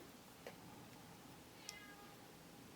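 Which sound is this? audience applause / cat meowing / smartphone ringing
cat meowing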